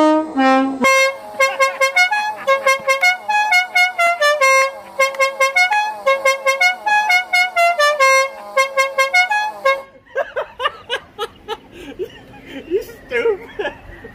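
La Cucaracha air horns on a vehicle blaring the melody as a rapid run of loud, brassy honking notes, then breaking into laughter and chuckling voices over fainter, scattered horn tones toward the end.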